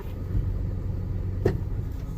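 A car engine idles steadily in reverse after a DIY repair, a continuous low rumble with one brief sharper click or knock midway.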